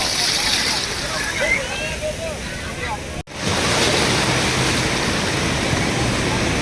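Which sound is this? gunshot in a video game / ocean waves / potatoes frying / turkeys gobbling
ocean waves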